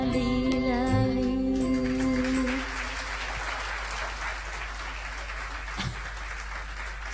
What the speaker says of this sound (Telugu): చాలా క్లాప్స్ పడ్డాయి.